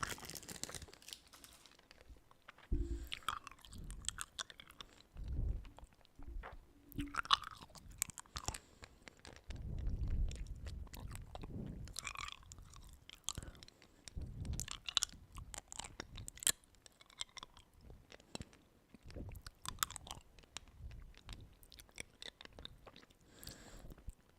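Candy being chewed and crunched close to the mouth for ASMR, with soft mouth sounds and irregular crunches spread through the clip, one louder burst midway; no talking.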